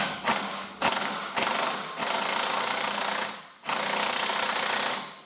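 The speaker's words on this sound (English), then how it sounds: "There's no way this gun will over torque this, so we're good." Impact gun driving a 36 mm axle nut on a 2007 Aston Martin V8 Vantage during a CV joint boot repair: four loud, close rattling bursts of hammering, the last and longest after a brief pause.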